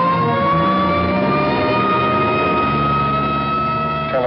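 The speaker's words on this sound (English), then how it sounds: "here comes an ambulance out." A city hospital ambulance siren wails in slowly rising tones over the rumble of a heavy engine, loud and continuous throughout.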